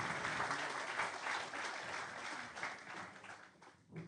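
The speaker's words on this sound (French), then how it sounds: "Je pense qu'on peut aussi les applaudir, ils étaient passionnants" A conference audience applauds the three speakers of a French business panel, a dense, even wash of clapping lasting several seconds, moderately distant and fading slightly near the end.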